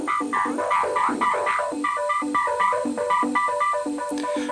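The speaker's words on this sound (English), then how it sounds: "Then we have chorus, which is stronger than you might expect." Akai Synthstation 25 synthesizer with a strong chorus effect, playing a rhythmic sequence of thick, wavering tones in a steady repeating pattern, continuous and fairly loud.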